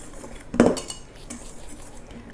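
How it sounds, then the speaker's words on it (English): A whisk scrapes and clinks against a bowl while mixing sieved flour and salt, with two sharp metallic knocks and softer brushing strokes between them, close and alone with no voices. "I'm going to use a whisk to mix it."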